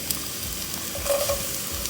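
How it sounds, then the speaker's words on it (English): Finely chopped onion sautéing in about three tablespoons of hot oil in a pan, a soft steady sizzle with faint stirring, close and continuous with no voices. "I'm going to saute these onions for about 5 to 7 minutes until it just gets nice pink, translucent in color."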